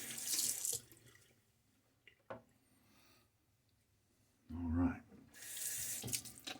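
Tap water runs into a sink during a wet shave with a Cella soap block, two loud bursts of hissing flow at the start and end, with quieter rubbing sounds in between.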